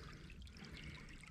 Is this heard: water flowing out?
yes